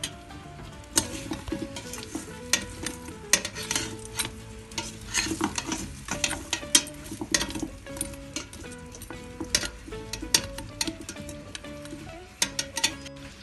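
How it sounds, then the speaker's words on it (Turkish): Boiled bone-in meat sautéed in half a tea glass of oil, with a soft frying sizzle beneath frequent sharp clinks and scrapes of a spoon against the pot, close and irregular. "Yarım çay bardağı sıvı yağ ilave ediyorum. Bu şekilde de biraz kavuracağım."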